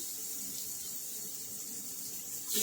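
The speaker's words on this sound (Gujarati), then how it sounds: "એ મગમાં આપણે એક ગ્લાસ પાણી એડ કરીશું" A glass of water pours into mung beans cooking in a pot with spices for mung bean rice, a steady rushing splash close by that swells louder at the end, with no speech.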